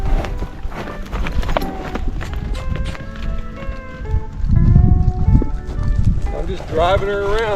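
A young horse moves around on hooves while being driven from the ground during groundwork before riding, its footfalls steady under continuous nearby talk.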